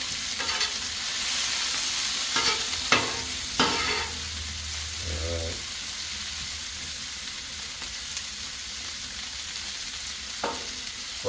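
Frozen burger patties sizzle steadily on a Blackstone griddle, a constant close hiss broken by a few sharp spatula scrapes and clacks, with no one speaking.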